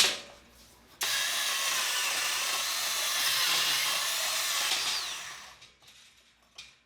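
A power tool cuts into a metal part for a turbo V6 Mustang build, a sudden loud, harsh, sustained grinding shriek lasting about four seconds before trailing off, close by with no talking.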